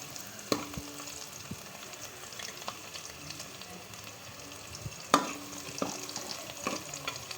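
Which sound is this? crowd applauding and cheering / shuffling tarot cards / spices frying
spices frying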